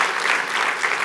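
A brief burst of loud, dense clapping from a large student audience at a conservative conference, steady with no gaps.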